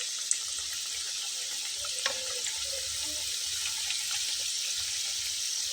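Potato samosas frying in hot oil turned down to medium heat, giving a steady close hiss of bubbling oil with a few faint clicks, no voices.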